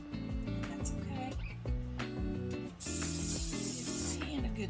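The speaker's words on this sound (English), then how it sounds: "Give my hand a good spray down." A spray bottle gives a hand a good spray down, with a sustained hiss that jumps louder in a strong burst partway through, over a background of music and without talk.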